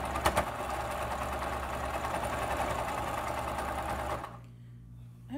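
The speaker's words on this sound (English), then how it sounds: "right now I'm finishing up sewing on the skirt part, or the ruffled bottom of the top" A sewing machine runs steadily while attaching a gathered eyelet-lace ruffle skirt to a tunic top, a close, continuous whirring hum that stops abruptly near the end, leaving quiet room noise.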